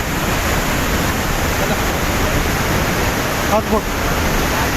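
Maldevta PPCL waterfall near Dehradun, on the Tehri border, gives a steady, loud, close rushing roar of falling water throughout, with someone briefly speaking over it.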